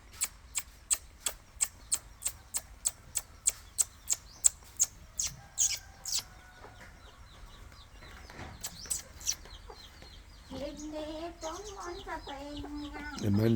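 Chickens in Thailand cluck and squawk nearby in a busy, irregular chatter, preceded by a rapid series of sharp rhythmic clicks, with some noise toward the end.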